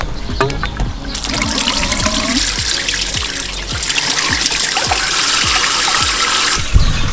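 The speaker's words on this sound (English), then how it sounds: "take off the cork, plug in the hose, nice and tight, like that, and you flip this, and then it comes out" Grey water from a camper van tank gushes and trickles steadily out through a hose, a loud, close, continuous rush with faint ticking underneath and no talking.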